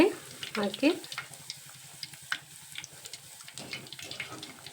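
Rice flour bondas fry in hot oil, a steady soft sizzle and bubbling with a few louder stirring splashes near the start.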